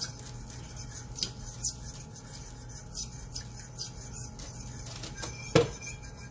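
A fork scrapes and taps against the bottom of a metal pan while making shrimp and grits, loosening browned bits with quiet irregular scratches, light clinks and one sharper knock near the end.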